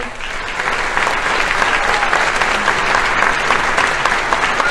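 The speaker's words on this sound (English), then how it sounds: "can we give a round of applause to the people who really guided us and supported us, please?" A showcase audience breaks into sustained applause, dense steady clapping from many hands at full volume throughout, with no clear voices over it.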